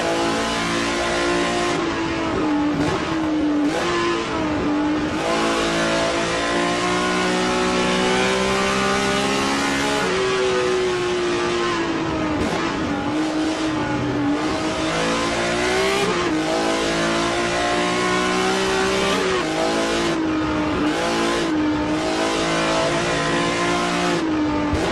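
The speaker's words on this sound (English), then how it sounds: "On board with Ross Smith in the number 0 BMW M1 Group 5." Onboard, the number 0 BMW M1 Group 5 race car roars through a Road Atlanta sim race, its loud engine rising and falling through gear changes and revs without a break.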